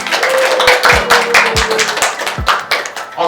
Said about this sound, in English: Give applause for Danny.